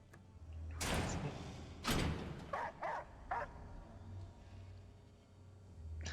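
A dog barks in the horror game Layers of Fear: two loud, sharp barks are followed by three shorter, quieter yips, over a low steady hum, with no talking.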